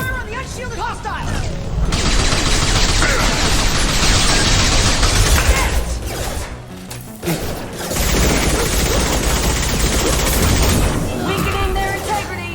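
Video game weapon fire aimed at an unshielded hostile, loud and sustained in dense bursts of shots and booms, with a short lull midway before the barrage resumes, all over a thick combat din.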